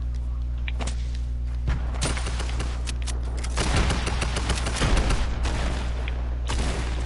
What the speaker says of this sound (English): Alright, I'm throwing grenades.